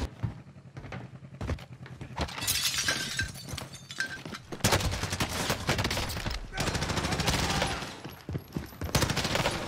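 A Semtex grenade sticks and explodes in the video game Warzone amid loud bursts of gunfire, shattering and debris noise, with repeated heavy blasts and crackling impacts filling the mix.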